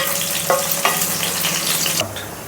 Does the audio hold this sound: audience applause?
no